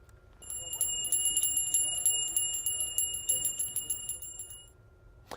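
A hand-held Salvation Army charity bell rung outside a shopping market, rapid repeated bright clangs with a sustained metallic ring, fairly close, over faint background murmur before stopping.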